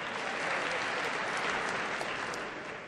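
Audience applause at a business forum talk, a dense wash of clapping held steady for a few seconds before starting to thin toward the end, heard from within the hall.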